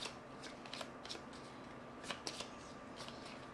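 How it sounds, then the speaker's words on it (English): Playing cards being drawn during a tabletop game of Dominion: soft, quiet flicks and slides of card stock in a loose, irregular series, with a few slightly crisper snaps midway. "I'm going to draw 3 more cards."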